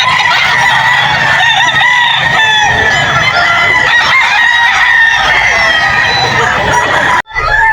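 Loud, dense clucking and crowing from many chickens and roosters close by at the Bocaue pet market, a constant overlapping din with a few voices faintly beneath.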